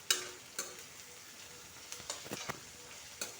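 Ginger-garlic paste frying with onions in a pan for goat curry: a soft, steady sizzle broken by several sharp spatula scrapes and clinks as it is stirred, close by, with no voices.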